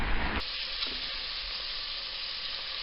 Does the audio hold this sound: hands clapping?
no